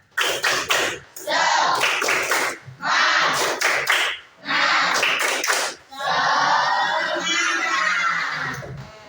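A classroom of pupils performs the 'tepuk semangat' clapping chant, bursts of patterned clapping alternating with loud shouted chanting in several rhythmic phrases.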